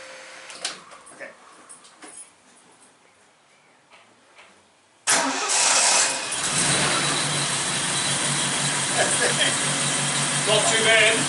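A Triumph Stag car engine cranks and starts after quiet shuffling, then settles into a loud, steady idle that continues close by, with people talking.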